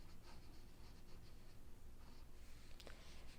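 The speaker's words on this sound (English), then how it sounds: "And I'll write yes in one direction" Faint, close scratching of a pen writing the word yes on a homemade pendulum board, a soft continuous scribble with a few short strokes in a quiet room.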